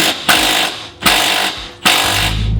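Three long bursts of an impact or ratchet wrench torquing the 19 mm control arm bolts on a Mazda 3's suspension, each a loud, buzzing run of about half a second with short gaps between, close up and free of talk.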